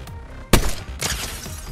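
A Fortnite sniper rifle headshot: one sharp, loud crack lands near the middle of the moment, then a rolling echo and a second, softer burst of game noise follow.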